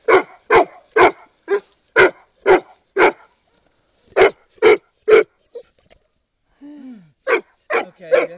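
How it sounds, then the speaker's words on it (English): Several dogs barking near an abandoned building during a roof-removal job, loud bursts in quick runs, a short pause, a brief whimper, then more barks. "let's get all the dogs out of here"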